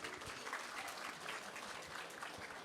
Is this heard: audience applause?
yes